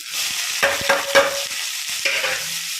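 Curry leaves and onion drop into hot oil for a yam curry, making a burst of crackling sizzle with a few clinks of a spoon on the pan, then settling into a softer steady hiss.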